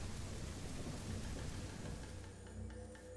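Steady rain pours down in a video game while deep thunder rumbles underneath, a continuous wash of sound with no one speaking.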